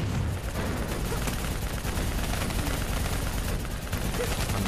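Dense, continuous gunfire in Black Ops 3 during a fight against a VTOL and an APC, a steady roar of rapid shots and explosions that stays loud and unbroken, with no clear talk.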